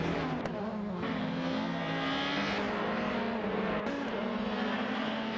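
Racing cars including a Volvo C30 and a Mercedes C200 drone steadily through a video game race, with engine whine holding a constant, fairly loud pitch throughout.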